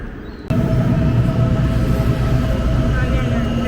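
A train at a station platform on the Lisbon to Porto line gives a steady, loud rumble with a faint whine that starts abruptly and holds evenly.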